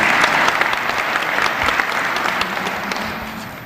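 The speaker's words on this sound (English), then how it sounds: "please join me in giving the Union Baptist Choir another round of applause" Audience applause for a church choir at a police and fire department Black History Month celebration, a dense, steady roomful of clapping that stays loud throughout and tapers slightly near the end.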